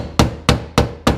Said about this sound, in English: Now I'm going to see if I can take my hammer and shape it better to the body.